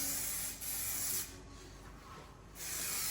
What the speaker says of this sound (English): being that it's metallic and out of a rattle can, I like to just go over it real fast at the end